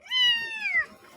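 An injured stray cat, hit by a vehicle, lets out a single long, drawn-out crying meow, close and clear, falling in pitch at the end.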